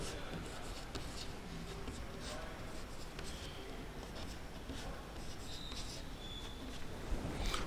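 Steady scratching of writing on a board during a maths lesson on rational numbers, a continuous soft rubbing stroke pattern throughout at moderate distance, with no clear talk over it.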